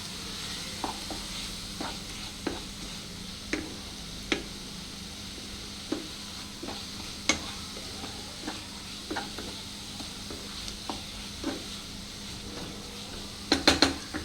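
Spinach coated with gram flour is stirred in a pan, a spoon scraping and tapping the metal in a steady rhythm over a soft sizzle, ending in a quick cluster of clinks.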